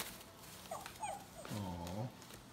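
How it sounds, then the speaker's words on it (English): Puppy whimpering at home on Christmas, a few soft high yips followed by a longer plaintive whine, close and fairly faint. "What's that puppy doing over there?"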